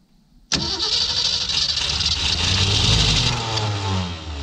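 A 1966 Ford Mustang engine cranks and catches after a short pause, then revs and holds a rough, unsteady idle with throttle blips, close and fairly loud, with no voices over it.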